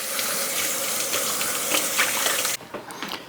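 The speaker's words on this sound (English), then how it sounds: "all we're going to do is rinse them off." Tap water gushes steadily over halved, seeded peppers being rinsed for homemade smoked paprika, a close, full splashing that cuts off abruptly near the end, leaving faint handling sounds.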